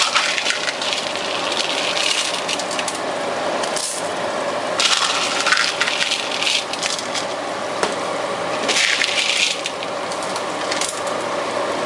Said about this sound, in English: we are going to dump 12 ounces of chocolate chips into the mixture